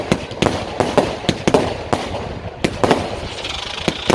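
Firework cakes fire in a V formation at an outdoor city display, loud sharp bangs and crackling bursts going off in quick irregular succession, close and continuous throughout.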